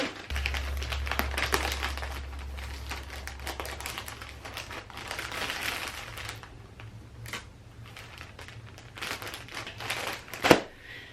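A pen scratches out a handwritten Christmas gift label in a run of quick, dry strokes, with soft paper crinkles, occasional taps and a low steady hum underneath; one sharper knock near the end.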